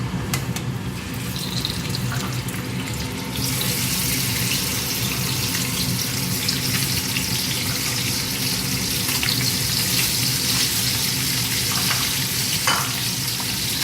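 Smoked bacon browning in a pan with very little oil, a dense continuous sizzle and crackle close up, steady and loud for the whole stretch with no talk.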